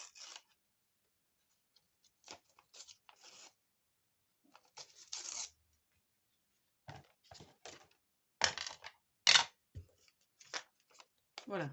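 Paper is torn by hand for a scrapbooking notebook gift project in short, quiet, sharp rips, several separate tears spread over a near-silent room with a soft voice speaking between them.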